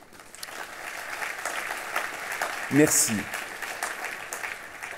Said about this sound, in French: Je vous demande d'applaudir nos intervenants et les organisateurs.